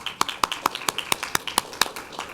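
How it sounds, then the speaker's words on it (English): Applause from the audience at a school board meeting: about a dozen sharp, evenly spaced claps in a light, sparse round, close and fairly quiet. "So we're going to give you a round of applause."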